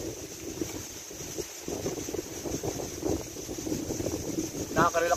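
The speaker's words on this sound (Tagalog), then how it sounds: "Lakas ng hangin sa dagat." Strong sea wind buffets the microphone at a seaside spot, a steady rushing roar with gusty bumps, while a person talks faintly beneath it.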